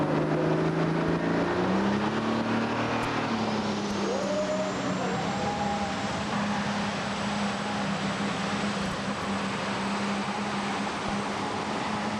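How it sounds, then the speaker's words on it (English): A tractor-pulling tractor at an NTPA pull roars loudly on the track, a sustained heavy engine drone with a rising whine, steady and close throughout with no talk. "Tractor crawling all over the track from left to right,"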